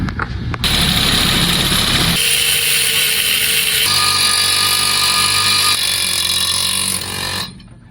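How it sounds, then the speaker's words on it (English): A Sawzall reciprocating saw cuts into the body of an old first-generation Dodge Cummins truck, a loud, harsh continuous buzz with rasping metal, the tone shifting in steps as the blade bites, then cutting off at the end. "I'm gonna go ahead and remove this with the Sawzall."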